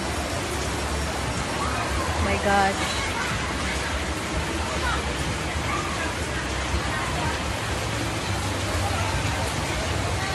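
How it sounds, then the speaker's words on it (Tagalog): Heavy rain pours down in a steady, dense roar throughout, with a brief startled exclamation from a person partway through. "Ang lakas-lakas ng ulan. Mas lumakas pa siya."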